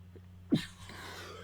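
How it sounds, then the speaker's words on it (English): A single close, sharp sneeze from a football broadcaster in the booth during a 1986 Washington at New York Giants game, bursting out over a low steady hum of crowd and broadcast background. "No sneeze button up here"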